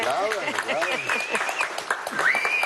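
Studio audience applauding on a Venezuelan television program, a sustained patter of clapping under a voice speaking over it throughout.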